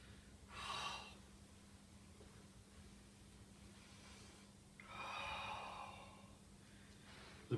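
Two audible breaths during Chi-Do exercises, a sharp nasal-sounding intake followed later by a longer breathy exhale, both close and fairly quiet over a steady low hum with no talking.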